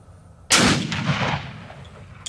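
A Ruger Precision Rifle held in a Ransom Rest fires a single shot of Hornady Match ammunition on a 200-yard range, a sharp, loud crack that rolls into a long fading echo, with no voices.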